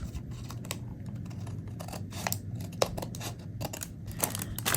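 Scissors snip off a spare piece of paper while crafting a receipt holder, a few quiet crisp cuts and rustles over steady low background noise.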